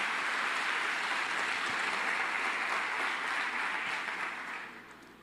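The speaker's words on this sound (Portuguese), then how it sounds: "Você consegue aplaudir ao Senhor pela sua palavra," A church congregation applauding during a sermon, a broad continuous roar of clapping from many people that holds steady and then fades out over the last second.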